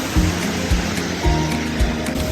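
Rushing water at La Fortuna waterfall in a forest setting, a steady broadband roar with surging low swells, continuous and fairly close, with no talk.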